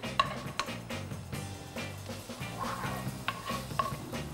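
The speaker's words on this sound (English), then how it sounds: "Once the onions and carrots start sizzling" Soft frying sizzle of onions and carrots in a pan mixed with stirring scrapes and a few sharp utensil clinks against cookware, fairly close.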